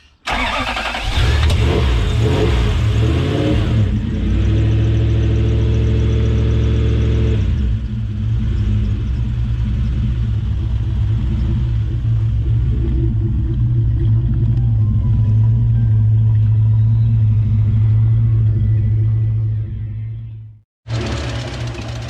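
A Toyota 1UZ V8 engine in a Hiace van starts and settles into a steady idle with a rumbling drone and faint rapid ticking, then cuts off briefly near the end.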